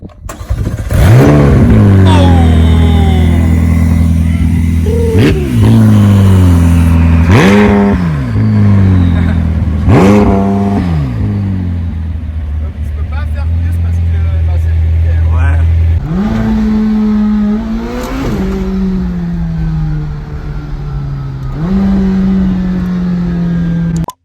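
A powerful McLaren 600LT engine revs hard through repeated rising gear pulls, each roar climbing then dropping, before settling into a steady loud drone up close.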